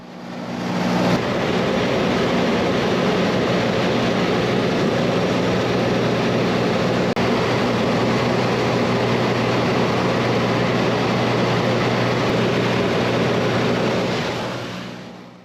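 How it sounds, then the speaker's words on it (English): A small plane cruising over the Nazca Lines in Peru, its engine and propeller giving a loud, steady droning roar heard close from inside the cabin throughout. "this did mean tilting the plane quite steeply either side so that we could see them clearly"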